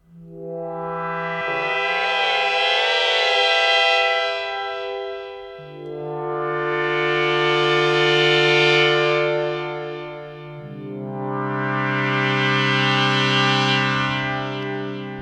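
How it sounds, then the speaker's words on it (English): Pad patch on a DSI Pro 2 synthesizer run through four delays, three long sustained chords swelling in and out with rich harmonics, a shimmering filter sweep in the first, no voices. "Another way to enrich your pad sounds is to add effects. In this case, we have 4 delays that I'm going to gauge."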